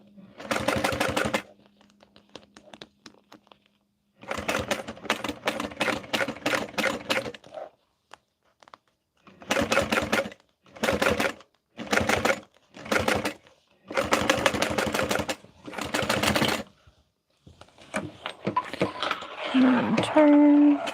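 Home sewing machine stitching down a dress pattern piece, running in repeated short bursts of rapid mechanical whirring separated by brief pauses, close and fairly loud, with some handling noise near the end.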